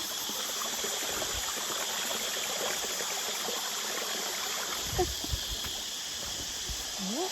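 Steady rushing water from a forest waterfall in a misty mountain village, a constant broadband wash with loud insects droning above and a few faint knocks.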